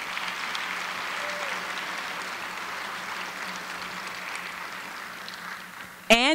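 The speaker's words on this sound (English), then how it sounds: "Let's give them a round of applause." A high school auditorium audience at a Black History program applauds steadily for committee members, a broad even wash of clapping that holds throughout and ends with a sudden sharp sound.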